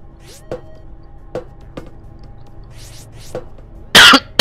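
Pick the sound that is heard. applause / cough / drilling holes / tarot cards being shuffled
cough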